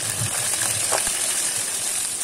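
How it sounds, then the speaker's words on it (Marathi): Cumin, curry leaves and garlic frying in hot oil make a soft, constant sizzling hiss with a few light crackles, close and steady without any talk. "जिरं, कढीपत्ता आणि लसूण टाकले आहे। थोडं फ्राय करून घेऊ।"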